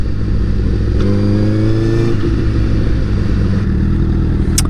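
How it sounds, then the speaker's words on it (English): A 2015 Honda CBR1000RR Fireblade sport bike engine revs loudly and close, its pitch climbing and falling through a couple of throttle blips over a constant rumbling drone, with no talking. "It just sounds so good. It's such an enjoyable bike to listen to."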